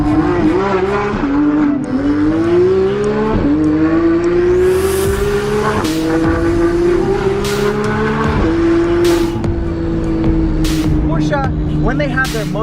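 A 2015 Porsche 911 GT3 engine sings loud and close while driving, its high-pitched wail rising steadily through the gears with brief dips at each shift and occasional sharp crackles, continuous throughout with no talking.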